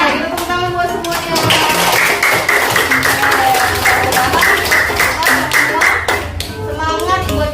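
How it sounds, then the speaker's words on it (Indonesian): Students applauding in a classroom during a school lesson on positive class culture, loud dense clapping from many hands close by, with children's voices calling out over it. "Tepuk tangan buat semuanya."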